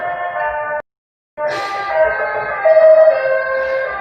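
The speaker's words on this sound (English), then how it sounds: "That's the doorbell" A doorbell chimes in a home during a yoga session: two clear, sustained ringing tones separated by a brief silence, the second sounding a little louder and fuller, with no talking.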